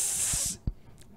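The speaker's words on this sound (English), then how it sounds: "I'm gonna get some bug spray." A can of bug spray hisses in one steady burst for about half a second, close and fairly loud, then a light clunk as it stops, with no talking over it.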